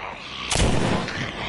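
A single gunshot rings out in The Walking Dead video game, a sharp broadband blast that decays into a short rumbling tail over steady game ambience.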